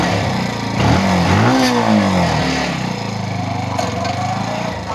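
A Brixton Cromwell 125 motorcycle rides off, its small engine rising in pitch through a couple of revving sweeps, close and loud with wind and road rumble throughout.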